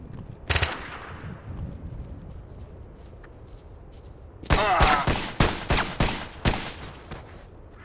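Enemy gunfire in the S.T.A.L.K.E.R. game The Exception: a single sharp shot early, a quiet lull, then a close burst of several loud cracking shots in quick, uneven succession.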